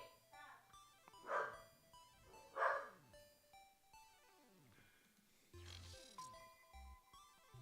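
Corgi giving a couple of sharp barks early on, then softer yips, moderately near, with someone talking in the room.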